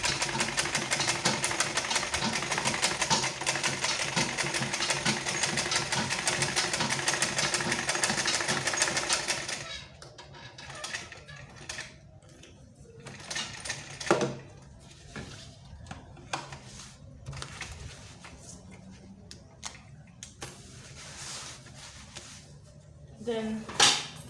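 Sewing machine running a top stitch on a fabric lunch bag, a dense rapid mechanical chatter for about ten seconds, then quieter handling noises and scattered clicks.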